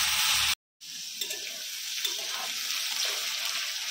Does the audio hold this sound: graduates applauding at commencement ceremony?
no